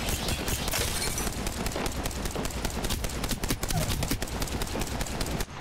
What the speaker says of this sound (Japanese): では今度は同じことを足音のでかいニューキャッスルでやってみましょう